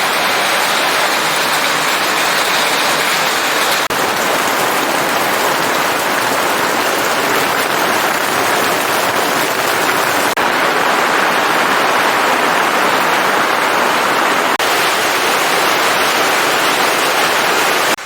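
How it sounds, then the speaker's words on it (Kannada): Heavy morning rain pouring down steadily in a dark sky, a loud, dense and unbroken hiss that continues throughout without pause. "ಬೆಳಿಗ್ಗೆ 10 ಗಂಟೆ ಆಯ್ತು, ಮಳೆ ನೋಡಿ"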